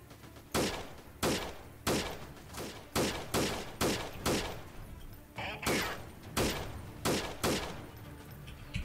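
Rapid gunfire in the video game Freeman: Guerrilla Warfare, a machine-gun squad engagement: about a dozen sharp, loud shots in a steady, evenly spaced rhythm with a voice talking underneath.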